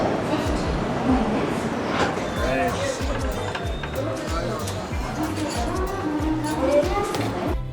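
Steady rumble and rhythmic clatter of a moving train in India, heard from inside a carriage, with passengers' voices mixed in.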